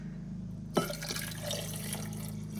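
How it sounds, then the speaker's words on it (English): Tea pours steadily into a glass of ice after a sharp clink, a continuous splashing trickle heard up close with no talking. "we can pour out the tea into the glass."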